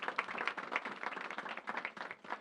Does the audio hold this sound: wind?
no